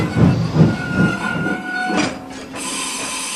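A steam locomotive puffs rhythmically with rail clatter and hiss, a few evenly spaced chuffs fading into a steady rolling rumble.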